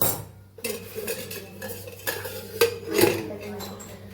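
Kasuri methi thepla flatbread flipped on a griddle: metallic scraping and clinks of a spatula against the pan, with a few sharper knocks near the end, close and moderately loud.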